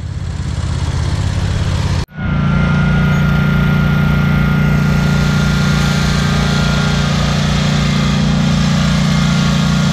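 A lawn mower engine runs steadily near the mic, briefly cutting out for a moment before droning on loud and constant without anyone speaking.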